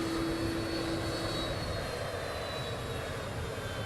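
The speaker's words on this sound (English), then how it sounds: "You might hear them cheering the president when the engine noise cuts down a little." Aircraft arriving at Palm Beach with a presidential crowd nearby, its engine a steady, loud roar and whine that fills the whole stretch without a break. No voices stand out.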